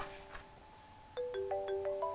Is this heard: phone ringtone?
yes